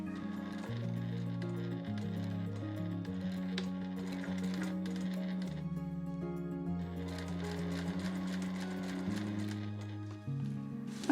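A sewing machine stitches a reversible bamboo tote bag with a steady mechanical chatter that briefly slows and pauses, then resumes at an even pace. The sound is close and continuous, with no talking.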